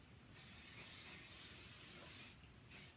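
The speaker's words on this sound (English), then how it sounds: "So I like to just give this a little bit of hairspray after I've dampened it." Hairspray hisses from a can onto dampened pin curls in two bursts, a long steady spray followed after a short pause by a brief second puff, close and fairly quiet.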